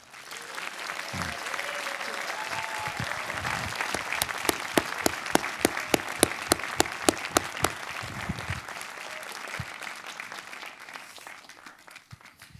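An audience welcomes film director Michael Mann with long, steady applause that swells into a run of rhythmic, closely miked claps before slowly fading.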